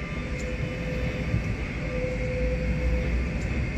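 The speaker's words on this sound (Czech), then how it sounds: "Hele, odjíždí tady tramvaj." A city tram on route 27 in Prague departs, giving a steady loud rumble of wheels and motor with a faint whine that holds through the whole stretch, with no talking.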